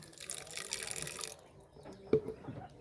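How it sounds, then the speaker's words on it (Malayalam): Water is poured into a bowl of crushed leaves, a soft, quiet trickling splash that fades, followed by a faint drip and a small clink near the end. "ജസ്റ്റ് കുറച്ച് വെള്ളം ഒഴിച്ച് കൊടുക്കുക."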